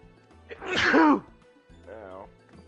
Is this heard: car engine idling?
no